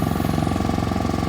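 An automatic rice transplanter engine running steadily nearby, a loud continuous mechanical chugging with rapid rhythmic knocking and no voices.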